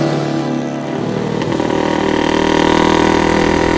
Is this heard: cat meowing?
no